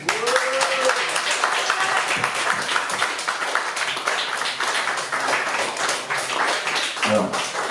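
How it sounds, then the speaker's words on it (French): A concert audience in Nice applauds loudly, dense continuous clapping filling the whole stretch, with a voice briefly heard near the start and again near the end. "On peut applaudir très fort Pascal."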